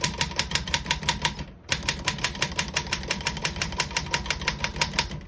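A 1933 Royal 10 antique desktop typewriter typing in rapid, regular key strikes, with a short pause before the quick rhythmic clacking resumes, close and clear.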